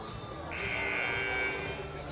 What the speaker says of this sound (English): So second buzzer coming out of a Warriors timeout.